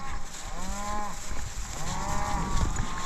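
Cattle moo repeatedly during a cattle drive through the Black Hills, several long drawn-out calls from nearby animals over steady outdoor background noise, with no talking.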